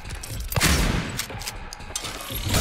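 Gunshots fired in the Silent Hill 2 Remake video game: several sharp, loud blasts, close together, over a steady background rumble.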